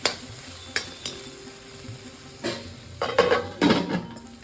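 Okra and tomato fry in a pan with a faint sizzle, broken by occasional clinks and then a quick run of scraping stirs near the end, close and moderately loud.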